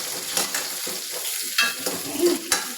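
Onion, dried red chilli and grated coconut sautéed in a pan for a chickpea curry, with a close, steady sizzle broken by several scraping stirs of a spoon against the pan and no talking.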